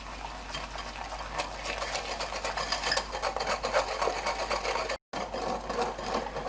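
Egg yolks and sugar being whisked together until pale for a fruit trifle, a steady, busy mechanical whirring with scraping texture running continuously and fairly close, broken by one abrupt brief silence near the end.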